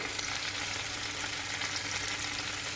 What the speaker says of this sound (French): je vais venir déposer mes Saint-Jacques dans ma poêle